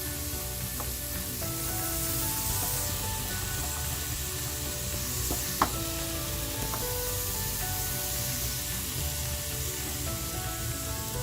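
Cubed red potatoes and mushrooms with cumin fry in a pan, giving a continuous close sizzle with a single sharp clink partway through and no talking.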